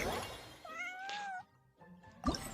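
Cat meowing in the video game Genshin Impact, one drawn-out whining meow followed by a shorter cry, heard among faint game sounds.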